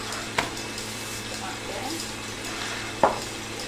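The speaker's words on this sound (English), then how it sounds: "And then we're just going to stir that together and break it into the raspberry jam." Raspberry ripple Bakewell mixture being stirred in a bowl: a soft, steady scraping texture punctuated by two sharp clinks of spoon against the bowl, close and fairly quiet.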